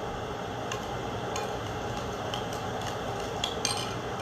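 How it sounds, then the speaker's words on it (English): A utensil stirs a small vinegar mixture in a dish, giving light, repeated clinks and taps at an uneven rhythm, close and quiet over a steady room hiss. "Let's stir that around."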